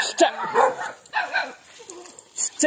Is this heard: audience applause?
no